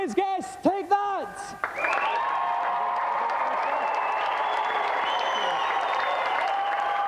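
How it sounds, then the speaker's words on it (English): After a few spoken words, a studio audience breaks into steady, loud applause with some cheering that carries on to the end. "let's have another big round of applause for today's guest."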